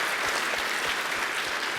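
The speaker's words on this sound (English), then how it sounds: "give him some claps" An audience at a keynote event claps steadily, giving loud and dense applause throughout.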